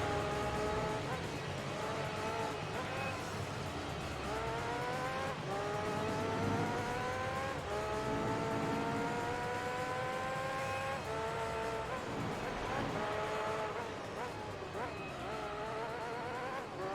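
A race car engine in Gran Turismo 3 drones steadily, its pitch climbing through repeated gear changes and dropping as it shifts, continuous and loud throughout with no talking.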